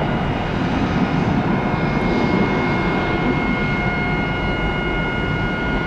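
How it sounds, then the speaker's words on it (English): An airliner's auxiliary power unit runs at the airport with a loud, unbroken roar and a steady high whine on top, constant and close throughout. "Do you hear how loud that ULP is? Not ULP. That's auxiliary power unit, APU."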